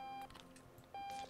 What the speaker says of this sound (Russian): Это что, что пищит?